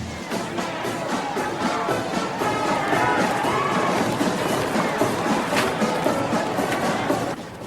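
A large, hostile crowd of protesters packs New York's Fifth Avenue, a dense, steady roar of many voices and shouting that continues without pause at fairly loud level.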